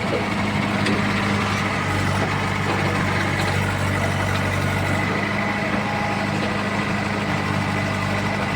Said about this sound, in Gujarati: આપણે ટ્રેક્ટર લગાડી દીધું મિત્રો.